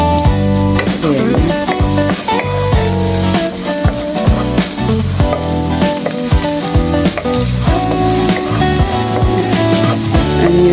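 Onion sizzles and fries in corn or canola oil in a pan, a loud, steady crackling hiss with bursts of popping and stirring throughout, no voices.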